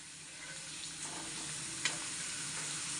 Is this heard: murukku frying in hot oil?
yes